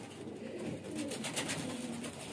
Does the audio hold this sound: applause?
no